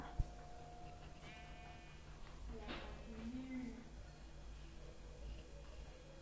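A single quiet Minecraft sheep bleats against a low, faint game background.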